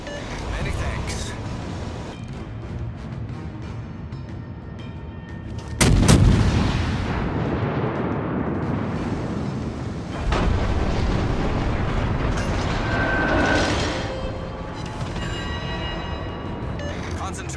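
Naval guns boom in the World of Warships: Legends game during a USS Phoenix battle, with one heavy blast near the middle and further shots rumbling over constant engine and sea noise, and a voice speaking throughout.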